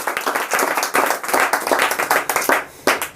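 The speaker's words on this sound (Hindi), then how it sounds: "बिल्कुल सही जवाब। ताली बजाइए।" Schoolchildren in an offline quiz classroom clap together loudly and close by, a dense round of applause in repeated bursts that swell and fade a few times across the short stretch.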